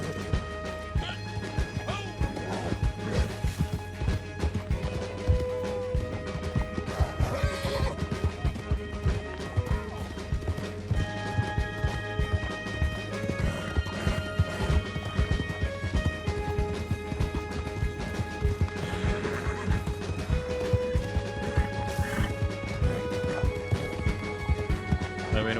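Horse hooves pound in a steady gallop with repeated whinnies during mounted combat in the Red Dead Online video game, loud and continuous under dense game music and effects.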